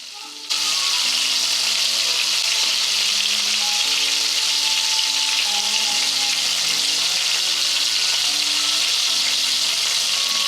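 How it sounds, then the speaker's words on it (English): Shrimp fry in hot oil for a sandwich, giving a loud, steady sizzle that starts abruptly and keeps a dense, even crackling hiss throughout, with faint tonal background music underneath. "when you're frying things, you don't want to move it around too much"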